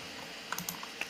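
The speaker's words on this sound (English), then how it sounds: "let's start typing here again." A few quick keystrokes on a computer keyboard sound close and crisp, a short burst of light clicks with no talking.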